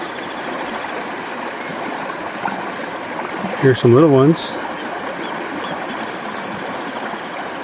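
A California creek flows steadily over rocks, a continuous close rush of water that carries throughout, with someone speaking briefly over it.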